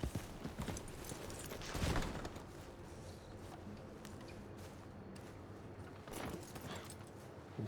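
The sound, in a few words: horse hooves clopping in video game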